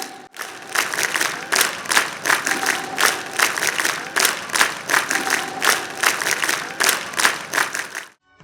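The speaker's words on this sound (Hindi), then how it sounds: "आर्यवीरों, आपकी तरफ से एक वीर ताली आनी चाहिए अपने शिक्षकों के लिए," A group of young trainees at an Arya Veer Dal camp clapping in unison for their teachers, loud rhythmic synchronized claps repeating steadily for about eight seconds, then stopping abruptly.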